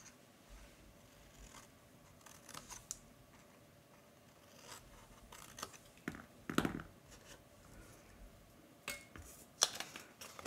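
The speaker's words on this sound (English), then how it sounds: "we'll come in and miter cut this tab." A blade miter cuts a card tab while a no-glue mini card gift box is being made, giving faint, close, sparse snips and paper clicks with small handling taps and no talk.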